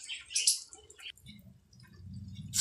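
Water from a glass poured into a bowl of pink-roasted flour for chicken nihari, giving a few short splashing and dripping bursts and then a low, steady sloshing as it fills, close and fairly loud.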